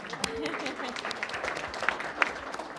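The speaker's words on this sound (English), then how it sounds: "And a round of applause for all of you for attending as well." Attendees at a multicultural business forum clap briefly for everyone present, a modest scatter of applause with a few sharp nearby claps and some voices mixed in.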